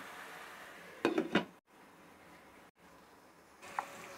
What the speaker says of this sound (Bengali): এখন ঢাকনা দিয়ে একটু ঢেকে দিচ্ছি